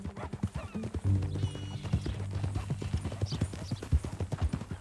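Horse hooves clip-clop in a steady, brisk rhythm in Red Dead Redemption 2, close and clear, with a low sustained drone and an occasional whinny-like sound in the background.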